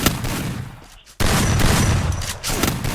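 Dense automatic gunfire from the mobile shooter game Free Fire rattles loudly and continuously, breaking off briefly before a second sustained burst resumes.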